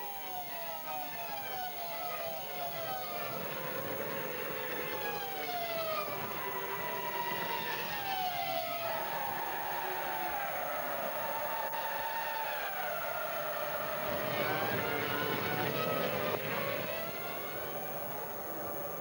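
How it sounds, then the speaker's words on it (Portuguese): Formula 1 cars, including Schumacher and Barrichello, accelerate down the Indianapolis straight at the 2002 US Grand Prix, shrill engine notes rising and falling as several cars scream past in overlapping waves, loud and continuous. "Aí vem eles acelerando, rasgando a reta de Indianápolis"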